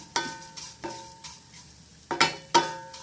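Banana and aval (flattened rice) sweet mixture roasting in a pan while being stirred, with about six sharp scraping strokes against the pan, each followed by a brief decay, over a faint sizzle.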